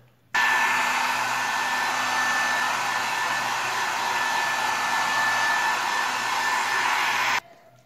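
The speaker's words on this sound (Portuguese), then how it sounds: "E aí agora eu vou acelerar com o secador ou soprador." Hair dryer or blower used to speed the drying of paint on a decoupage craft piece, a loud, steady airy roar that switches on abruptly, runs unbroken for about seven seconds, then cuts off.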